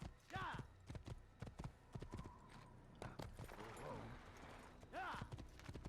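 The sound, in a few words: horse hooves from video game Assassin's Creed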